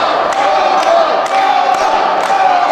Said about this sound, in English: He's got this crowd fired up.